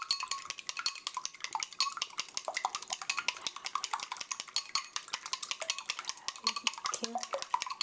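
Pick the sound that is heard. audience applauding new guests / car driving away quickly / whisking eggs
whisking eggs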